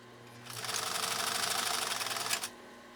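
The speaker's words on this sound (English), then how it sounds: "let's sew this next decorative stitch" A PFAFF 332 sewing machine runs a decorative stitch through leather, a steady rapid mechanical chatter lasting about two seconds, starting and stopping cleanly with a faint hum before and after.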